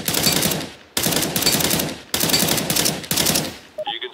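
Automatic rifle fire in CS:GO training rattles out in four loud, evenly spaced short bursts, each lasting about a second, followed by a few quick metallic clinks at the end.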